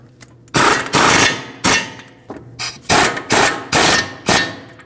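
Power tool tightening the front brake caliper bolts on a 2016-2022 Mercedes-Benz GLC300, with loud, close impact bursts coming in about seven short, rattling pulses.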